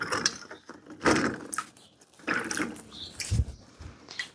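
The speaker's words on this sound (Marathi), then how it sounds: "मीठ टाकलं की ह्या शेरण्या मस्त धुवून घ्यायच्या" Vegetables being washed by hand in a pot of heavily salted water, giving close, intermittent bursts of splashing and sloshing with short pauses between strokes.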